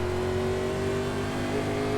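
A 1987 NASCAR race car roars at Talladega speedway, its tires struggling for grip. The engine drones in a steady, loud, sustained tone with no voices for about two seconds.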